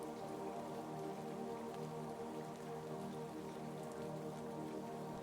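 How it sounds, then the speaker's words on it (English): Gentle rain falls steadily outside a lake house, a soft, even patter of raindrops that holds unbroken throughout with no voices. "The rain had started again, its gentle rhythm a perfect complement to your relaxation."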